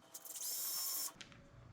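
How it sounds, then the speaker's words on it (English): A power drill bores a small hole in motocross bike parts, one steady high whine lasting under a second before it winds down, close and loud, with faint rustling afterward. "I hate drilling holes in my stuff like this."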